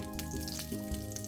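Curry hisses in a small amount of oil in a pot, a brief, quiet, steady sizzle heard close up.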